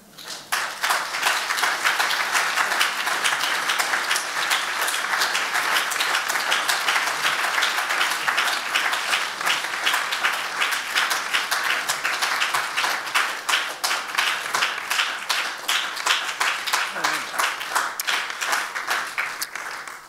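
A church congregation claps continuously for about twenty seconds, a dense, even patter of many hands that holds steady throughout, with no voices on top.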